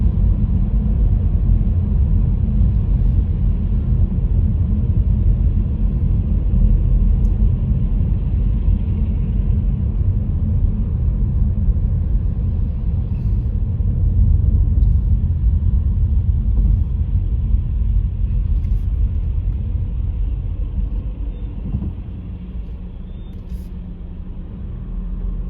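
Heavy road traffic on the M271 fills the scene with a steady low rumble of engines heard from inside a car, which eases slightly near the end.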